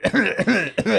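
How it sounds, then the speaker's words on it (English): A person coughs several times in quick succession into a sleeve, harsh throaty bursts close up with brief gaps between them. "I'm free to cough like this."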